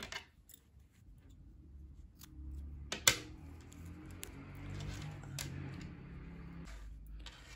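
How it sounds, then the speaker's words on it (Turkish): Scissors cutting knitting yarn, with one sharp close snip standing out over a quiet room background, faint rustling and a few light ticks around it. "İpliği kesiyorum."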